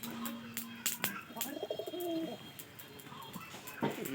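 Domestic pigeons kept for breeding give repeated low, throaty coos in short rolling phrases, close by, with a few sharp clicks and faint household noise around them.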